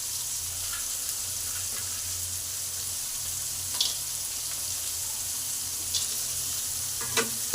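Peanuts and roasted gram frying in a pan, a soft steady sizzle close by with faint stirring clicks and a louder scrape at the end, no talk.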